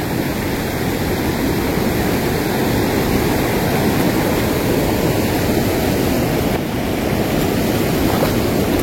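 Floodwater from an overflowing village pond rushes past in a loud, continuous roar at close range, with no voices heard.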